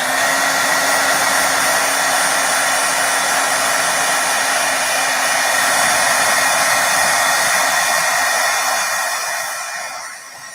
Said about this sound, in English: I'm just going to give it a hit of heat just to dry the ink so I can splatter.